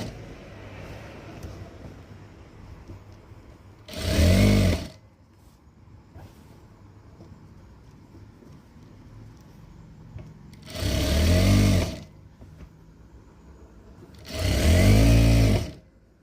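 A sewing machine stitches down a folded fabric hem in three short bursts of rapid whirring, loud and close, separated by quieter pauses while the cloth is repositioned.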